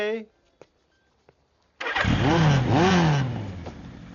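In a scene from the Telugu film Mirapakay, a motorcycle engine starts after a few faint clicks, catching abruptly and revving up and down in rising and falling sweeps, loud and close, with a voice overlapping.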